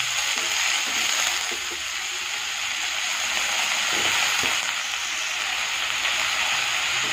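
Brinjal and potato sautéing in a pan, a dense, steady hiss of frying that runs unbroken and fairly loud, close by, with no talk.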